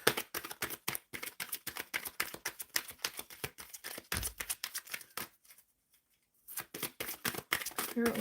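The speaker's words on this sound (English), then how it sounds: "Shuffling for the collective." Tarot cards being shuffled by hand, a quick run of dense, crisp card riffles and slaps that stops briefly near the end and then resumes, close and steady throughout.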